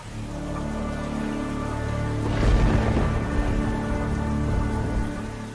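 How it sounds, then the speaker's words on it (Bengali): Cartoon rain falls in a steady patter and spray, swelling into a louder rumbling burst partway through before easing back to the even downpour. "না হলে বৃষ্টিতে খুব ভিজবো।"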